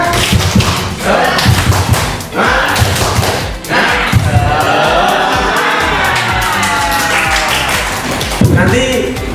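A classroom group of teachers or students claps together in a rhythmic cheer during a positive discipline training session, loud sharp thuds repeating steadily for several seconds with voices calling out over the beat.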